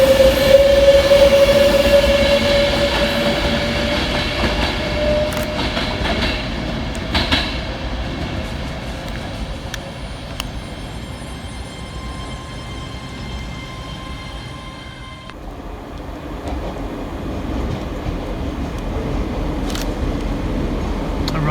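A ScotRail passenger service from Glasgow Central arriving on the far platform at Edinburgh Haymarket station, a loud sustained rumble and rolling wheel noise with a fading whine, dipping briefly before the rumble resumes, with no talking.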